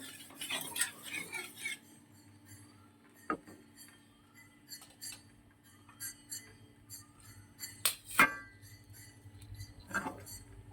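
Chicken being mixed with marinade in a bowl, giving sparse clinks and scrapes of a utensil against the dish, several sharp taps spread out over a quiet background with no talk.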